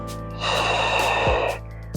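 A sharp, forceful breath during a twisting floor barre workout movement, lasting about a second and ending in a quick catch, close and loud against a steady background hum.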